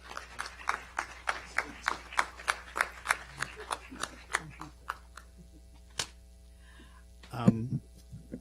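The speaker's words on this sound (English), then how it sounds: "one more round of applause, Mr. Jonathan Dunn." At a council session honoring a Teacher of the Year, sparse, evenly spaced claps ring out in a steady rhythm in a quiet room, thinning to a few isolated claps before a short thump near the end.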